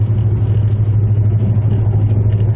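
A 1979 Chevy El Camino street-performance V8 idles with a steady, loud low rumble and even exhaust pulse throughout, heard from close by with no voices.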